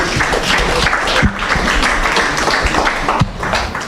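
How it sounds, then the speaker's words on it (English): Audience applause at a trade show as a speaker is welcomed to a panel, loud close clapping from a crowd with a few sharp individual claps standing out, sustained throughout. "a big round of applause for Mr. Jim Joseph."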